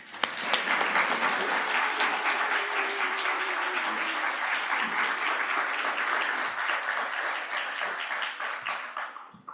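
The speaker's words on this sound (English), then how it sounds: "put our hands together in appreciation of these fine new members" A church congregation applauds new members during a worship service, steady full-room clapping that holds at an even level for several seconds before tapering off.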